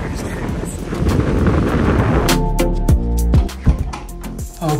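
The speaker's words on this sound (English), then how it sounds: "it's so very windy." Strong wind in Canberra, Australia buffets the microphone in a steady roar, with rumbling low gusts and a few sharp knocks near the end.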